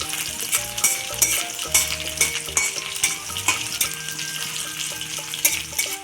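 Herbs frying and stirred in a pan for Manipuri bamboo shoot eromba, a steady close sizzle broken by repeated scraping and clinking stirs.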